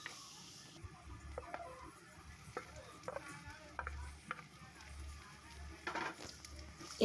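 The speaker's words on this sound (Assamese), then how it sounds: "এতিয়া এয়া লৰাই লৈছোঁ, ধুনীয়াকৈ গোটেইখিনি মিক্স হৈ যোৱালৈকে আমি লৰাই থাকিম" A spoon stirs cumin powder into bitter gourd curry in a pan, giving soft, irregular scraping and light sizzling taps at low volume.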